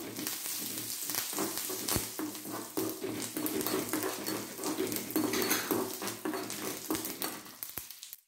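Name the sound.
curry leaves frying in oil for chutney tempering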